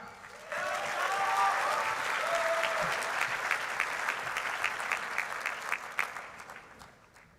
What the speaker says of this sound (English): we welcome your applause for the MA and BA MA class of 2019.